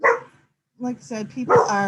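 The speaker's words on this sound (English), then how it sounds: "sorry about my dog" A pet dog barks a few short times close to the microphone during an online publisher orientation meeting, mixed in with a person speaking.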